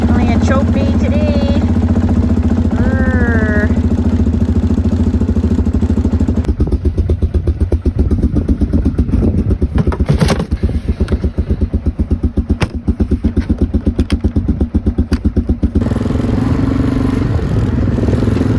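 An outboard boat engine on a remote northern Saskatchewan island, started on the choke, catches after some low mechanical rumble and then settles into a loud, steady, rapid idling clatter up close, with brief voices early on.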